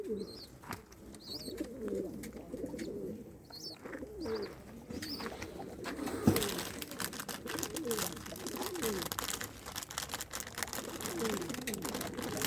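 Older pet pigeons coo in soft, repeated, rolling calls from nearby in a quiet coop, with faint chirps and low background rustling.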